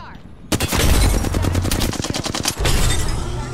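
Rapid automatic gunfire from a video game firefight, a dense loud burst of shots starting abruptly and running continuously for about two seconds, followed by sustained roaring combat noise.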